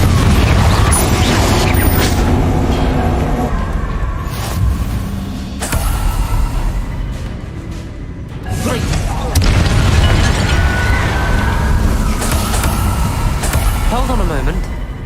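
Confringo spell explosions in the video game Hogwarts Legacy, booming blasts and bursts layered over dense combat effects, loud and continuous for the whole stretch, with brief spoken voices mixed in.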